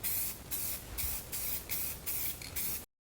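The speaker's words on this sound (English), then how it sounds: "we're going to respray paint this back bumper." Spray paint hisses in six steady bursts against the back bumper of a 2001 Chevy Express van, each spray lasting about half a second with short gaps between them, close and fairly loud, with no voices.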